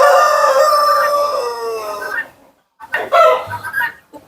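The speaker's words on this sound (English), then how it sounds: "White Colombian chicken." White Colombian Brahma chickens on a farm in Kajiado, a rooster crowing loudly in a long drawn call, followed by a pause and then several shorter clucks and squawks close by.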